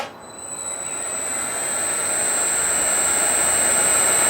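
A belt sander motor in a workshop starts up and runs, rising from near silence into a steady whirring hum with a sustained high whine, growing slightly louder as it reaches speed.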